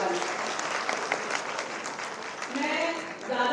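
A crowd claps continuously in dense, sustained applause at a swearing-in ceremony for a newly elected chairperson in Sitapur, with a voice speaking over it toward the end.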